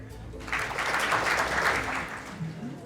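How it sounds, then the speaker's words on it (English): A live audience claps its hands together on cue at a talk event, a dense burst of applause that swells for about two seconds and then quickly fades. "Please clap your hands when I have my hand up and stop when I put it down."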